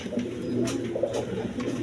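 Pigeons kept for sale give soft, low, continuous cooing close by, with several birds overlapping in a steady murmur.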